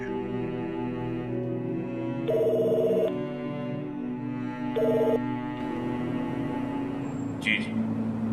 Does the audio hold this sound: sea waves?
no